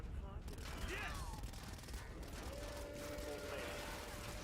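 Blaster gunfire in Star Wars Battlefront II comes as a dense, continuous fusillade of rapid shots. Battle noise and voices mix underneath, with a tonal whine cutting through partway.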